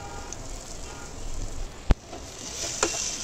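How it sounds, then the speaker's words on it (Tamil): Chopped potatoes and softened onions frying in a pan with turmeric, a low steady sizzle close by, broken by a sharp clatter and a brief stirring scrape. "வெங்காயம் நல்லா வதங்கின உடனே குட்டி குட்டியாக கட் பண்ண உருளைக்கிழங்க சேர்த்துக்கோங்க"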